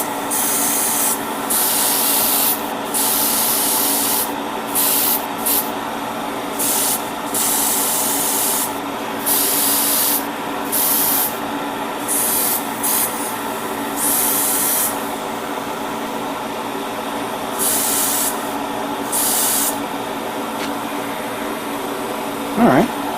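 An airbrush sprays paint onto parts of a 1/144 Real Grade Sazabi Gundam model kit, a steady hiss broken into short repeated bursts over a constant compressor-like hum.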